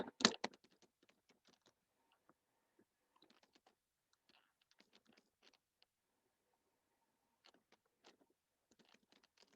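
Keystrokes on a computer keyboard while writing a Java program: a loud clack at the start, then sparse, faint clusters of quick taps in bursts with pauses between, close and alone.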